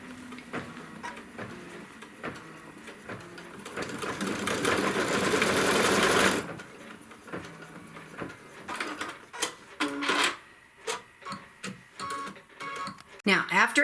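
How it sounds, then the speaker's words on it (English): A Kimberbell embroidery machine stitches a trim line on fabric in an embroidery hoop, a dense mechanical whir rising for a couple of seconds, with someone talking before and after it. "the first thing it's going to stitch is a trim line"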